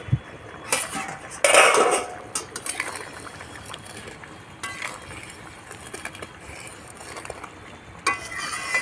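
A lid lifted off a pot of Bengali crab curry (kakra rosa) clatters once, with a loud metal clank and scrape, followed by softer utensil clinks and faint bubbling over the rest.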